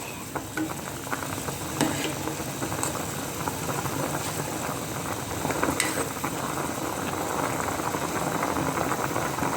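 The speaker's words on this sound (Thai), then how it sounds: "ค่ะเดือดนะคะทุกคน" Tilapia fish soup boils steadily in a pot, a continuous low bubbling and simmer with occasional sharper pops, fairly quiet and alone.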